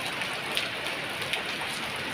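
Steady rain driven by strong wind, a dense continuous hiss with a couple of brief sharper patters, heard alone at moderate level.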